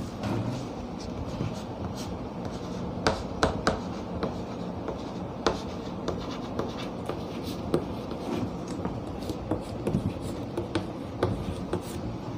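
Chalk or marker taps and scratches across a classroom board in short irregular strokes and clicks, close by, with no one talking.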